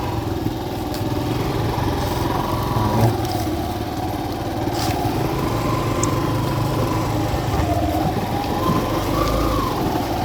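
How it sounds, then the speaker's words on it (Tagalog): A motorcycle engine runs nearby at a steady idle with a buzzy, uneven putter, continuous throughout amid faint outdoor background noise and no speech. "para palaban yung motor ni Juan"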